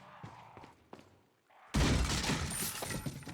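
Burst of pistol fire in the survival-horror video game Resident Evil 4, a dense loud blast of shots and impacts after a quieter stretch of scattered thuds.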